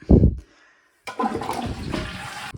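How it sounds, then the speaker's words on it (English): A household toilet flushes with a sudden loud rush of water that swirls and drains steadily for over a second, preceded by a brief clunk of the handle and a short pause. "Shouldn't have flushed that toilet then"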